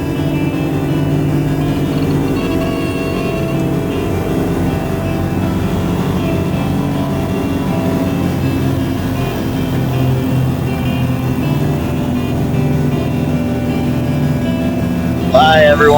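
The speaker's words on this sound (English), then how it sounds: "Lima is taking active runway departure to the east, and then turning southbound" A Piper bush plane's engine drones steadily and loud from close range as it begins its takeoff from a gravel strip by a glacier, a constant rumble with no break through the whole stretch.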